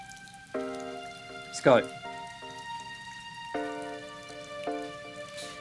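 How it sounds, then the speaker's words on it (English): Steady rain ambience with soft patter under gentle piano music, while a voice speaks briefly; no distinct thunderclap stands out. "I've got a thunderstorm and rain"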